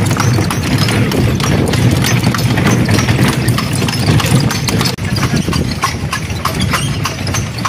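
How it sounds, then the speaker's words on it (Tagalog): Steady clip-clop of several horses' hooves on hard ground, continuous and fairly loud against a busy outdoor background with an engine hum. "Ang daming kabayo."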